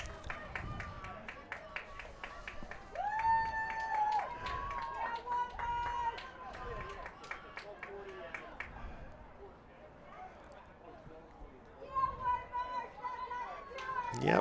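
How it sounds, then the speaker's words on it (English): Crowd of White Marsh rowing club supporters at the Head of the Schuylkill regatta, cheering and calling out along the riverbank course, a lively babble of voices with whoops rising and falling, some clapping, close by throughout. "Yep, a lot of White Marsh fans around here. I can hear them."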